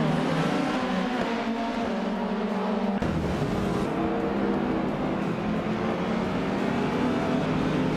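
Race cars roar off the start line in a video game, one a classic 1993 Porsche 968 Turbo RS, engines droning steadily and loudly throughout with a sharp shift in tone partway through.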